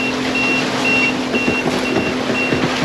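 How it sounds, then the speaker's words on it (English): An AIS alarm on a sailboat beeps in a regular, evenly spaced series of short high tones while the boat is under way at sea, set against steady engine and wave rumble. "So that alarm sound is just our AIS telling us that it sees something ahead of us."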